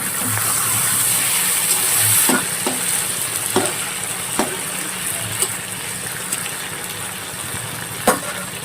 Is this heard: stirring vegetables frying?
yes